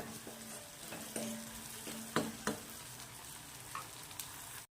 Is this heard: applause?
no